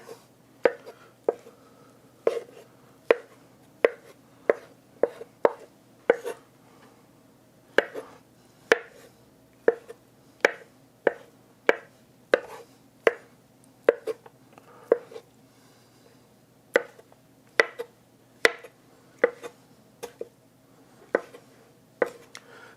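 A knife chops hard-boiled eggs on a cutting board in sharp, distinct taps at an uneven but steady pace, about thirty strikes spread over the stretch, close and clear with no talking.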